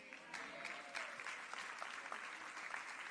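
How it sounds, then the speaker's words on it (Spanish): A church congregation gives a steady round of applause for an elderly preacher, a dense wash of many hands clapping together, moderately distant and continuous for a few seconds. "Fuerte aplauso a este gran siervo."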